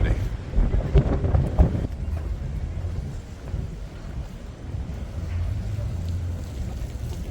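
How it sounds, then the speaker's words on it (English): Strong wind gusts across the microphone beside Regent's Canal in London, loud buffeting rumble at first, then a steadier, lower roar, with a person talking over it. "It's very windy."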